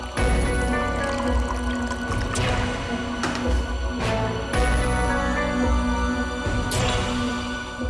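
Water is poured into a glass at home, with a run of trickling, gurgling pours and a few glassy clinks, close and fairly loud against a busy background.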